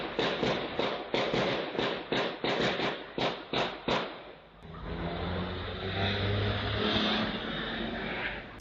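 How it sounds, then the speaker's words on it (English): A burst of roughly a dozen gunshots rings out in a street ambush, sharp evenly spaced cracks over about four seconds, followed by the roar of cars speeding away down the street. "10, 12 shots, it sounds like"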